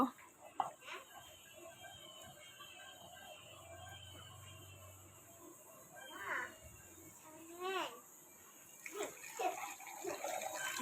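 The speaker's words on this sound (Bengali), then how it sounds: "মাখানো হলে এর মধ্যে অল্প পরিমাণ পানি অ্যাড করব" Small amounts of water are poured into spiced pangas fish, making a few short splashing pours between quieter stretches.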